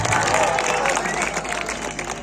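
Audience applause with ululation at a Dhanu Jatra stage event in Nagaon, welcoming veteran film actor Siddhant Mahapatra; dense, steady clapping and crowd noise throughout, fairly loud and continuous.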